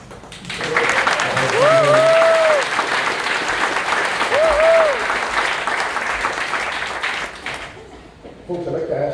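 People at a Honolulu city council hearing burst into applause after a testimony, with loud sustained clapping and a couple of whoops that fade out after several seconds.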